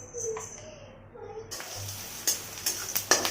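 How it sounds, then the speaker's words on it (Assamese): Garlic, onion and chili frying in hot refined oil in a wok, a steady soft sizzle with several sharper crackles and pops growing louder toward the end. "তেলখিনি গৰম হোৱাত এয়া নহৰু, পিঁয়াজ, জলকীয়া ভালকৈ ভাজি ল'ব"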